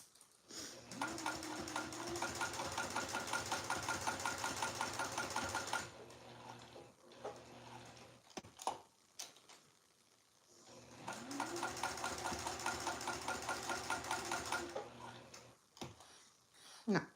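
A sewing machine stitches fabric for a hanging dish towel topper, close and rhythmic in two runs of about five seconds each, with handling clicks and a brief pause between them.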